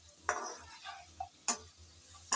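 Potatoes seasoned with salt and turmeric are stirred as they fry in oil, making a few distinct scraping strokes and clinks over a faint, quiet sizzle, with no voices.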